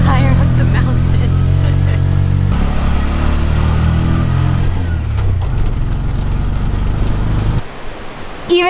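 Tuk-tuk engine labouring up a steep mountain road near Ella, Sri Lanka, a loud, close, droning putter that shifts pitch as it strains and revs, then briefly drops away near the end.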